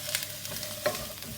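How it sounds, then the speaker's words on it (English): Courgettes and garlic fry in a pan, a soft steady sizzle with light stirring scrapes and a couple of brief clicks of utensil on pan, fairly quiet and with no voices. "what I want to do is fry the courgettes, but I don't want any of the garlic to burn"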